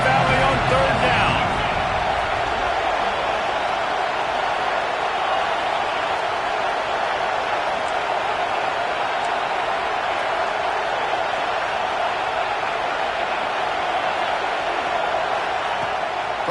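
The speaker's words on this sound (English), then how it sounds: "Here comes the noise from this big crowd in Happy Valley on third down." A huge stadium crowd at Happy Valley roars on third down at a college football game, a dense sustained wall of noise with a brief louder swell at the start, holding steady throughout.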